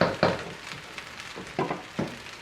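Fried rice searing in a pan, with a few sharp scraping stirs breaking through a steady, faint background sizzle.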